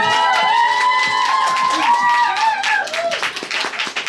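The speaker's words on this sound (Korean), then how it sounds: "박수 한번" Audience at a Korean book talk clapping together, a steady patter of many hands with cheering voices and crowd chatter mixed in throughout.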